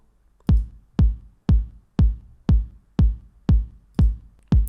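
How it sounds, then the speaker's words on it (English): A punchy kick drum thumps on a steady, even beat, about two hits per second, each boom decaying quickly, with nothing else playing. "And for the kick, I'm just gonna put four on the floor."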